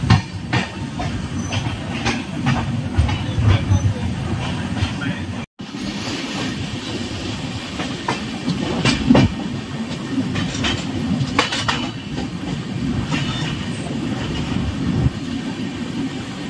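The 12621 Tamil Nadu Express passenger train rolls steadily along the rails, with a continuous rumble and repeated clickety-clack of wheels over joints, heard from inside the coach with brief muffled voices beneath.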